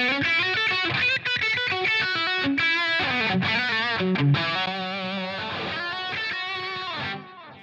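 An electric guitar played through a Line 6 Helix snapshot with high drive, distortion and delay sounds loud and sustained, with chords and ringing notes that trail off at the end.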